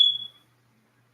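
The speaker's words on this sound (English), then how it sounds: "Smoke alarm" A smoke alarm gives a single sharp, high-pitched electronic beep that sounds briefly and cuts off, followed by near silence.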